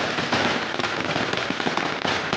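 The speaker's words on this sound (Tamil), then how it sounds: "அணுகுண்டு, நாட்டு வெடி, சரம், லட்சுமி வெடி இப்படி எல்லாத்தையுமே அவன் மட்டுமே வெடிச்சான்" Diwali firecrackers go off: atom bombs, country crackers, string crackers and Lakshmi crackers. Dense, overlapping crackling bursts pop continuously, loud and close, with sharp snaps scattered throughout.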